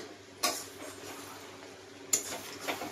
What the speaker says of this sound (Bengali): তো এইভাবেই খুব সুন্দর করে আমি মাটনটাকে কষিয়ে নেব ঢেকে ঢেকে